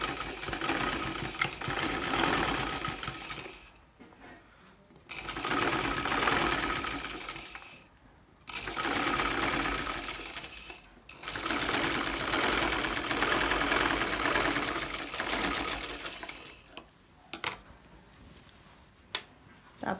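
A sewing machine stitches a kameez neck panel in several bursts of fast, even whirring, stopping briefly between runs, close and alone without talk.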